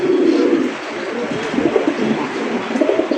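A fancy racer pigeon coos loudly and close, giving repeated throaty calls in its cage for the whole stretch with no talk over it.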